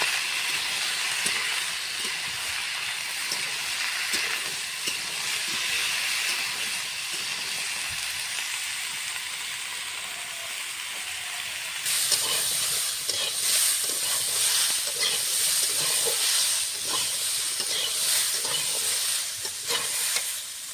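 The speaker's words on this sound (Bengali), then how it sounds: "সবজিটা ভেজে নেব ভালো করে।" Potato and bitter gourd sizzle as they fry in a pan with turmeric and salt, a constant close crackle broken by stirring scrapes, growing louder and brighter about halfway through, with no voices.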